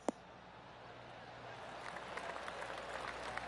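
A gallery crowd at a PGA golf video game tournament gives a polite golf clap, starting faint and swelling into a soft, scattered patter of applause partway through.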